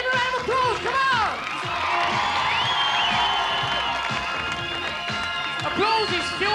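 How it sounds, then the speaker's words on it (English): A crowd at an 1980s BMX stunt show on a quarter pipe applauds and cheers, sustained clapping and whoops under a loud announcer's voice, swelling at the end. "Give him a round of applause."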